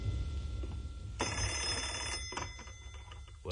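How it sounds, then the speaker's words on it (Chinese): A telephone bell starts ringing abruptly after a quiet moment, a loud, close, insistent trill that continues for about a second before breaking into shorter bursts and fading. "突然电话铃响了，宋柯走过去接电话。"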